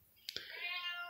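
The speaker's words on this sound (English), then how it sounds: "All right, my cat's waking up." A cat waking up lets out a single drawn-out meow indoors, close but fairly soft, preceded by a couple of small clicks.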